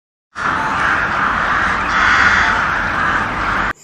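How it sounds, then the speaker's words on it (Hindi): A single crow gives one long, harsh, drawn-out caw, loud and close, starting abruptly and ending sharply. "यदि हम कौवे की आवाज़ की बात करें तो यह केवल काँव काँव ही नहीं करता है"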